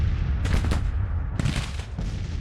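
Rifle volleys from Civil War infantry open fire on enemy artillery in a Grand Tactician battle, two loud crackling bursts about a second apart, each a ragged fusillade of overlapping shots with a low rumble beneath.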